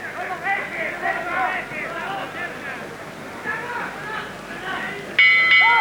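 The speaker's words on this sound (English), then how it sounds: "there's the bell to end the penultimate round" A boxing ring bell clangs near the end to close the penultimate round of a professional bout, ringing loud and sustained after a stretch of excited commentary over arena crowd noise.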